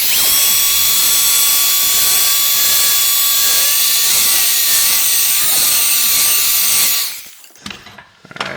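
A heat gun blows on the back cover of an Umidigi G9A phone, giving a loud, steady, high-pitched whine and airy rush that cuts off abruptly near the end, followed by faint handling noise.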